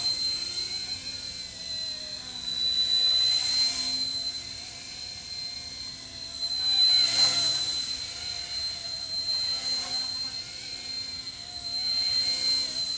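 The small rotor of an RCERA C170 Apache RC toy helicopter, running on a lithium polymer battery, whines with a high electric hum, swelling and fading in waves as it hovers and moves around nearby.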